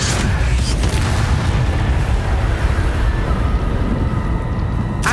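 An Incendio fire spell in Hogwarts Legacy goes off as a sustained roaring, booming blast of flame with steady rumbling noise and a sharp crack near the end.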